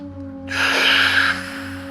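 A single sharp, forceful breath bursts out after a brief quiet moment, close and loud, then stops abruptly.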